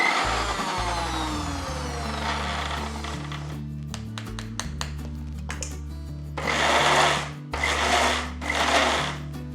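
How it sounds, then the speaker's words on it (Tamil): An electric mixer grinder crushing spices with cinnamon bark and curry leaves, a loud whirring motor that runs in bursts, stops and starts again, with a grinding rattle building toward the end. "கொஞ்சோண்டு பட்டையும் கருவேப்பிலை கொஞ்சம் போட்டு ஒரு அடி அடிச்சிடலாம்"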